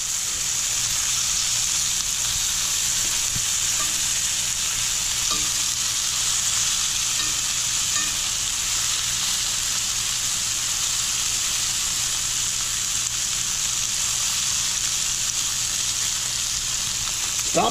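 Bacon fries in a pan with a steady, close, even sizzle and crackle that holds unbroken throughout, with no talking over it.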